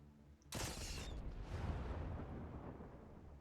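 In-game explosion from Robocop: Rogue City, a sudden loud blast that bursts in and then rolls into a long, heavy rumble fading slowly over a few seconds.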